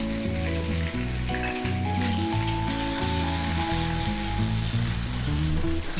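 Chicken sautés in a pan with coconut for chicken salna, giving a steady, close frying sizzle that runs the whole time beneath a continuous tonal melody in the background.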